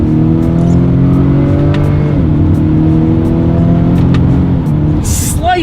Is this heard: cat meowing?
no